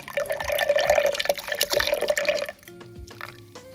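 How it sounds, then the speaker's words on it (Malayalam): Chilled milk poured steadily into a blender for cold coffee, a continuous close liquid splash and gurgle that stops abruptly, leaving a few faint drips and small clinks. "പാല് ഒഴിച്ച് കൊടുക്കാം."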